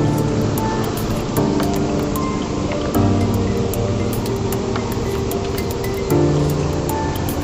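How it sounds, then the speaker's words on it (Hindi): Badalgiri waterfall pours in a dense, steady rush of water, a loud broadband roar that fills the scene without pause. "so guys finally we are eight बादलगिरी waterfall"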